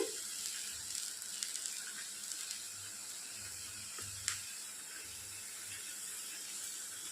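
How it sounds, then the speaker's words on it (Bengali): Dry red chilli, bay leaf and nigella seeds tempering in hot oil, a soft continuous sizzle with a few faint clinks, quiet and steady throughout. "একটু শুকনো লঙ্কা, তেজপাতা, কালো জিরা আমি ফোড়ন দিয়ে নিয়েছি।"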